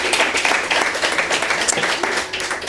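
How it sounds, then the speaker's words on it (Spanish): A studio audience on a talk show applauds a guest, a fairly close, uneven patter of many hands clapping across the whole stretch, with a voice briefly audible underneath. "También aplauso para él, por favor."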